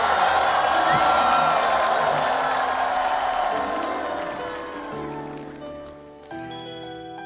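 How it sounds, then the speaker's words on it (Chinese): Studio audience on a Chinese variety show applauds and cheers as three guests are welcomed onstage, a loud dense wash of clapping and crowd noise that gradually fades, with a brief bright jingle near the end. "掌声欢迎张嘉佳、洪昱畅、周也"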